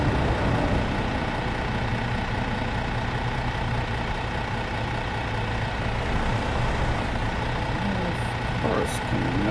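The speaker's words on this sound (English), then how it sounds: "There's a truck coming." A truck rolls past in the On the Road truck simulator game, a steady low engine rumble holding throughout at a constant level, with a voice talking over it.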